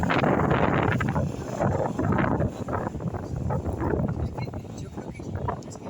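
Gusty wind buffets the microphone outdoors in a park in Benidorm, a steady broadband rumble and rustle that swells and eases throughout, with a voice talking faintly underneath.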